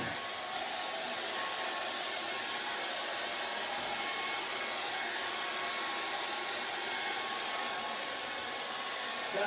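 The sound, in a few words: hairdryer drying acrylic paint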